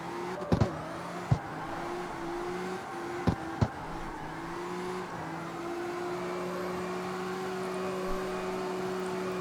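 A C-Class car with an S chassis build in the CarX Street racing game drifts with a steady engine drone, a few sharp clicks early on, and no talk.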